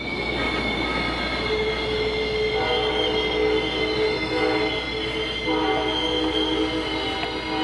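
Passenger train pulled by US Sugar steam engine 148 braking to a stop on the 2022 AAPRCO Sugarland Limited in Florida, loud sustained wheel squeal with layered screeching tones over steady rumble.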